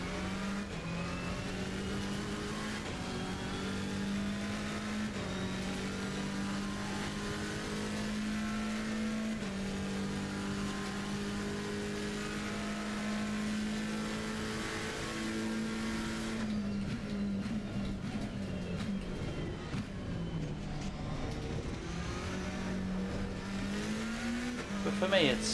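Race car engines from the Assetto Corsa Competizione racing game drone continuously, a steady high-revving note that rises and dips with gear changes and cornering, under a commentator's talk.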